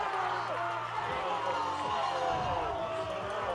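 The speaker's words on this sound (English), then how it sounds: "That's the crowd noise. Gray Cobb Field is rocking right now." A crowd roars loudly and steadily at Gray Cobb Field during a high school football game between Adams County and Lamar, a dense, sustained noise with a voice talking over it.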